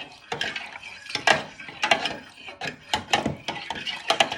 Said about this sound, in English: So you're just giving it a good stir.